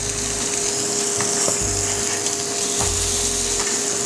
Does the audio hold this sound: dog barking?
no